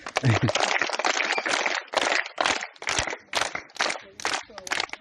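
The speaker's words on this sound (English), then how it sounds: "You should clap for yourself." Schoolchildren at a junior school clap for themselves in bursts of ragged group applause, close and lively, with pauses between the rounds.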